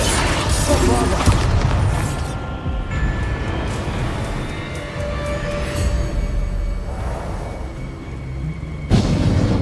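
Booming spell blasts from combat in the Hogwarts Legacy game, a dense, loud rumbling wash with heavy low-end impacts throughout and a fresh burst near the end, with game voices mixed in.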